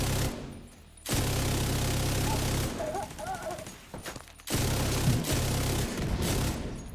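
Video game gunfire, blind firing while on fire, comes in loud rapid bursts broken by short quiet gaps, with brief crackles and muffled thumps between volleys and no talking.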